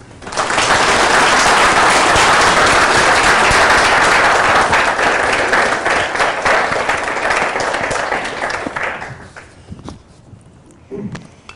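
Sustained audience applause welcoming author Tessa Hadley at a literary event in Copenhagen, a dense full-room clapping that holds steady for about nine seconds before fading to a few stray claps.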